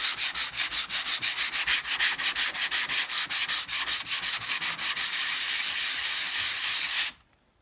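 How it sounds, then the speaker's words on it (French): Body filler on a taxi is sanded flat by hand in steady back-and-forth strokes, a loud, close rhythmic scratching hiss repeating about four times a second, then a smoother continuous rub before stopping abruptly. "Et ensuite on ponce bien à plat jusqu'à ce qu'après le mastic il vienne faire comme un nuage en fait"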